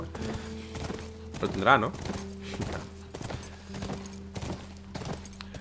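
Horse hooves clip-clopping in a steady walking rhythm while riding in The Last of Us, with a short neigh partway through and a person talking over the steps.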